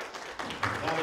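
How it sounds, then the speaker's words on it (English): Church congregation clapping on a Sunday morning, a diffuse patter of many hands that swells partway through and stays steady. "Give the Lord a good clap off the Lord."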